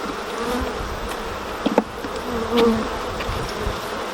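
Honeybees buzz in a UK beehive, a close, continuous droning hum with individual bees flaring louder as they pass near, no voices.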